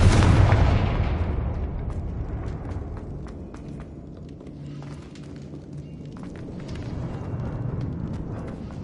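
Confringo spell explosion in a Harry Potter video game, a single loud blast at the start with a deep booming burst that decays into a long rumbling tail, followed by faint crackling debris.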